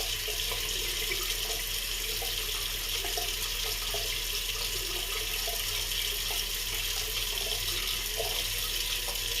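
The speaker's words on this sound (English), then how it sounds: "Now wet my hands" A tap runs steadily into a sink for several seconds while hands are wetted before a face wash and shave, a continuous close rushing of water with no talking.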